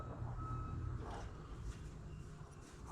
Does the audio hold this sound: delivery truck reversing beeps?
yes